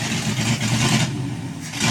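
A 1957 Dodge truck engine, not long running, revs steadily with throttle blips, a loud, close, rough mechanical roar with faint clatter that holds throughout.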